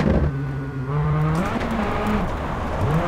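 Rally car engine in the Sébastien Loeb Rally video game on an icy stage, steady loud engine drone with pitch shifts as it revs and changes gear, heard alone.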